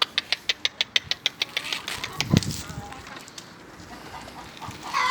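Hens in a backyard coop of about thirty birds make a quick run of sharp, evenly spaced clicks and clucks, followed by a louder squawk and a quieter rustling flock, close by.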